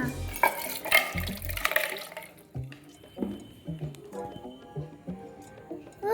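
Kulukki sarbath juice, seasoned with pink salt, is poured into a container at close range, with wet splashing and dripping broken by light clinks and knocks of the vessel.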